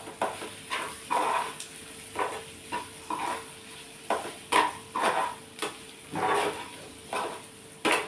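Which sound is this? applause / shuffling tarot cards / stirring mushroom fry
stirring mushroom fry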